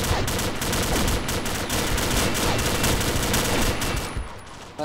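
Sustained rapid gunfire from a weapon in the video game Combat Arms, loud and dense bursts of shots running almost continuously throughout with no speech.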